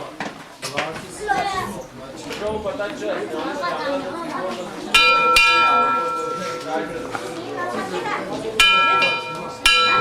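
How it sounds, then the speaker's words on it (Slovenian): Bright metal bells ringing inside a Tibetan Buddhist temple hall with a large golden Buddha statue, two clear strikes with long shimmering decay over a crowd's busy chatter. "pozvonimo za srečo"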